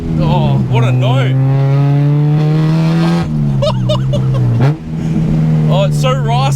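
A Honda K-Series engine is revved repeatedly, its raspy harmonic note climbing and dropping in several bursts over a steady idle, loud and near, while someone talks excitedly over it.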